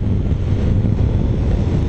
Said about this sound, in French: Donc là elle m'envoie le vent en pleine gueule dans le casque.